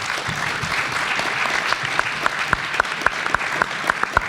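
A conference audience applauds the panelists at the close of a session on truth and integrity in US politics, steady clapping that builds into sharper individual claps toward the end, with no talk over it.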